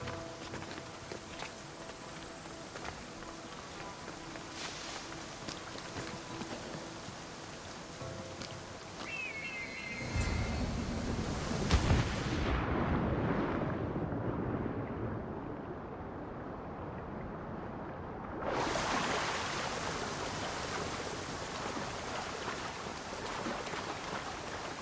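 Rushing waterfall in the game Assassin's Creed Odyssey, a steady broadband roar that swells louder midway as if drawing closer, with faint scattered ticks early on and no talking.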